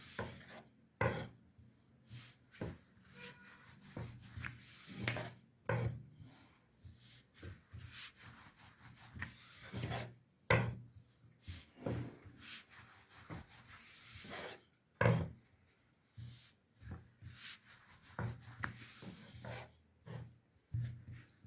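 Hand-rolled börek yufka dough sheets being worked thin with a wooden rolling pin, giving repeated soft rubbing and rolling strokes with occasional light knocks of wood on the board, fairly quiet and steady with no talking.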